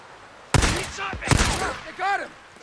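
Gunfire aimed at the player in the video game Days Gone, two loud sharp bursts of shots close together with echoing tails, followed by a brief voice near the end.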